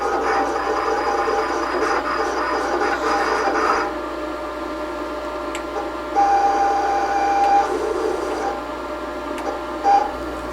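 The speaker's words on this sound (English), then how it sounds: "tell the machine to start cutting here. The origin is set. We're ready to start test cutting." A Roland GS-24 vinyl cutter makes a test cut in vinyl, a steady mechanical whir and rasp with brief higher motor whines as the carriage moves, close and continuous throughout.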